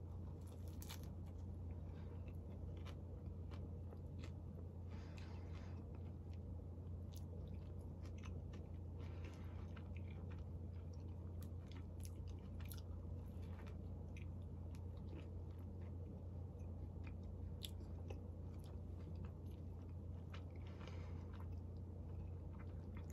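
Someone biting and chewing a burger dressed with garlicky hot sauce, with soft, close, wet chewing and repeated small crunches and smacks over a low steady background hum.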